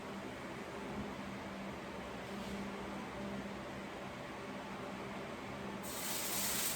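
A hot cast iron skillet, heated on a high flame for blackened catfish, gives a steady broadband hiss and sizzle that runs throughout and swells louder near the end, with a fan-like background wash and no talk.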